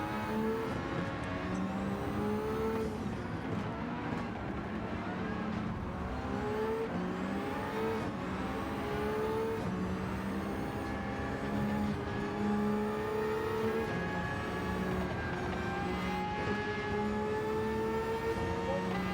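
A race car engine at Watkins Glen in Gran Turismo 7, revving steadily as the car laps, with gear shifts rising and falling continuously and loudly across the whole stretch.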